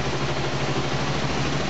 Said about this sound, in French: Donc voilà le moteur en route.